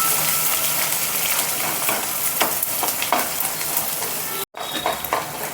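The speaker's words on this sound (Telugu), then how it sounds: "2 లవంగాలు, కరివేపాకు, ఉల్లిపాయ వేసుకుందాం. ఇట్లా ఫ్రై చేసుకుందాం." Cloves, curry leaves and onion sizzle steadily as they fry in a pan for makhana curry, with occasional stirring scrapes and a brief break near the end.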